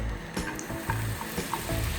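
Mbeju dough of cassava starch and cheese hits a hot frying pan, giving a soft sizzle with small wet pops and squishes, close and moderately loud over a low musical background.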